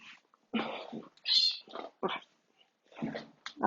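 A cat meowing loudly and repeatedly nearby, several drawn-out vocal cries with short pauses between them, close and prominent.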